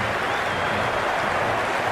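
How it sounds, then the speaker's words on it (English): A dense stadium crowd in a cricket match from Cricket 26 roars and applauds a shot, a steady, loud wash of cheering that holds for the whole stretch. "There's an almost tangible fervour throughout the crowd at the moment."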